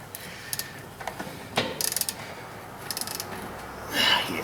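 A ratchet wrench on an extension loosens a 13 mm bolt beneath a wiring harness on a Ford F-550 6.0 diesel, giving bursts of close rapid clicking separated by pauses, then a brief louder scrape.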